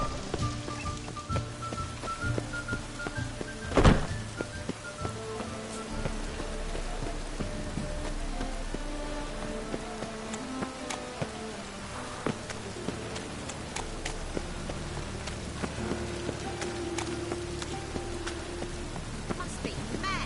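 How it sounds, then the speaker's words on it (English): Steady rain falls on surfaces in the rainy streets of The Witcher 3: Wild Hunt, a continuous hiss mixed with game music. Several loud impacts stand out, and a faint insect-like buzz runs underneath. "Must be mad running around in this rain."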